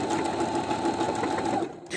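A new domestic sewing machine stitches a decorative double-sided blanket stitch, a steady close mechanical whirring hum for almost two seconds before cutting off.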